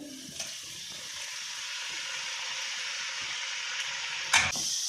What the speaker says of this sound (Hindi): चिकन को हम फ्राई करेंगे, थोड़ा सा गोल्डन होने देंगे